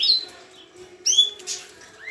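A pair of canaries in an aviary gives short, bright chirps and tweets in two brief bursts, close by and clear over a faint steady hum.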